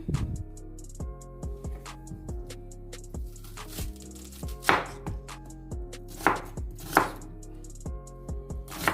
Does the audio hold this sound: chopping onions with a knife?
yes